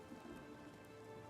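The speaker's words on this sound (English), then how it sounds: "Oh, it started to rain." Rain falls in the video game Oblivion Remastered as a faint, steady hiss of droplets over a low, constant game ambience, brief and with no voice over it.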